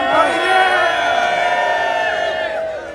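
A group posing with a banner for a Recovery Month photo cheers and whoops together, a loud, sustained burst of crowd voices that holds steady for a few seconds before tapering slightly.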